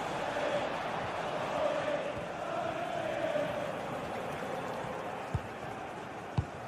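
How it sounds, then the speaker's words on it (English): Liverpool fans in a stadium during a Champions League match against Lille make a sustained, distant crowd roar that swells slightly and then holds steady, with a couple of sharp thumps near the end. "just listen to the Liverpool fans. The crowd very much behind them right now"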